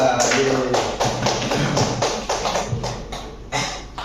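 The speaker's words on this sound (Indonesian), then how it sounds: "Berikan aplaus pada Mbak Ula." Classmates in an Indonesian classroom give a short burst of applause, dense clapping that stays loud and steady for several seconds before thinning out.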